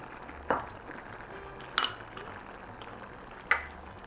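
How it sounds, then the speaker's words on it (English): A spoon mixes salsa verde ingredients in a bowl, three separate clinks against the dish spaced over a few seconds, close and fairly quiet. "Give everything a nice mix."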